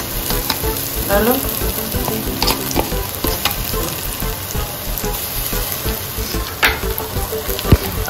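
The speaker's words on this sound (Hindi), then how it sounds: "हाँ और अभी डाल दो इसमें अदरक लहसुन का पेस्ट" Ginger garlic paste frying and being stirred in a pan over onions with salt, steady loud sizzle with scraping stir strokes throughout, a brief voice near the end.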